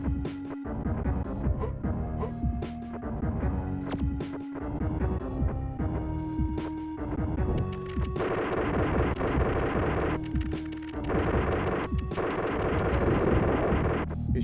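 Rapid gunfire from shooting bugs in a 1995 video game, dense bursts of shots layered over steady music-like tones that run through most of the clip, with no talking.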